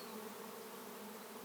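A honey bee swarm settles into its new location during a capture, a steady, close buzzing drone of many bees that holds evenly throughout.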